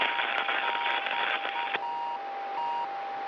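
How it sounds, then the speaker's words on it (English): A steady electronic locator beacon from a Soyuz spacecraft during its descent beeps intermittently at a fixed pitch over a constant hiss of radio static, with no talking. "you also hear the intermittent beeping sound. It's a beacon that is emanating from the Soyuz craft"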